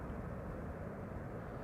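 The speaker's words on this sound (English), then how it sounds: "here is KLM flight 668. It's arriving from Austin, Texas. 7879 Dreamliner" A KLM Boeing 787 Dreamliner airliner arriving at Amsterdam Schiphol on runway 06 gives a steady, broad distant engine roar, even and unbroken, with no voices.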